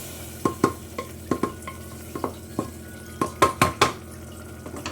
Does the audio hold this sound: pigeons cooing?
no